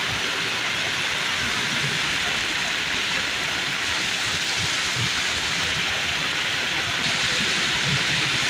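Heavy monsoon rain over a city road prone to waterlogging, a dense, loud and unbroken roar of falling water with no voices.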